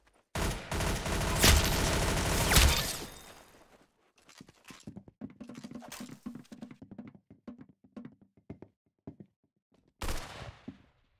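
Rapid burst of gunfire from the Roblox shooter Arsenal: a dense, loud fusillade for about three seconds, then a string of scattered single shots and thuds, a pause, and a final short burst.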